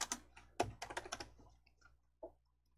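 Keys tapped on a computer keyboard in a word-processor exercise, a quick burst of clustered clicks followed by a pause and one more soft tap, close and quiet with no voices.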